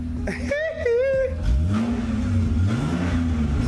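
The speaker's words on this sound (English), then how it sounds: "let's see if Michael Jackson will appear when you rev it" A car engine revs up twice, rising and falling in pitch, close by, with a brief whistle-like tone near the start; the engine is blowing blue smoke.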